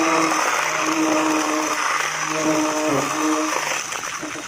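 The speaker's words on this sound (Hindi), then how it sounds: "अब हम बेसिकली हैंड ब्लेंडर की मदद से इसको मिक्स कर लेंगे" A hand blender whirs steadily, its motor tone wavering slightly as it mixes a thick homemade soap mixture, then eases off near the end.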